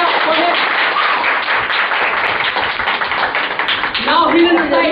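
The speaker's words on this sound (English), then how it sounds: "please encourage him with a great clapping and put your hands together for him" An audience claps to encourage a young performer about to recite a nursery rhyme, a dense patter of many hands that runs throughout, with voices talking over the applause.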